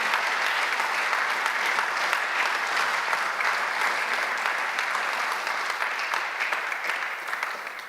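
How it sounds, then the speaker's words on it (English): Warm, steady audience applause at a talk with an Olympic medallist, dense clapping holding throughout and tapering slightly toward the end, with no voices over it. "Let's give him a warm round of applause."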